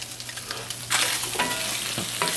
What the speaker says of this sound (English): we're just going to saute them all together and let the flavors bleed off of this